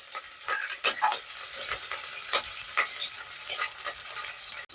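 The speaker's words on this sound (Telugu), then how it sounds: "మనం అందులో ఉల్లిపాయలు అదేవిధంగా కట్ చేసి పెట్టుకున్న పచ్చిమిర్చి వేసుకొని ఒక టూ మినిట్స్ వాటిని ఫ్రై చేసుకుంటే" Chopped onions and green chillies frying in a pressure cooker for veg biryani, with a constant bright sizzle and regular scraping stir strokes close by and no voices.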